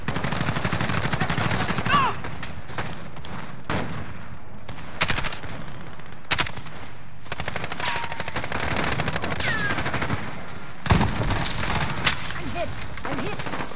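Gunfire in a shootout, sustained loud rapid automatic fire broken by brief pauses and sharp single cracks, with occasional voices amid the battle.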